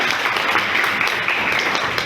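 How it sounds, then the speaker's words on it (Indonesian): A class of students applauds at the end of a morning lesson, a brief, steady patter of many hands clapping together, fairly close and even throughout. "tepuk tangan buat kalian semua"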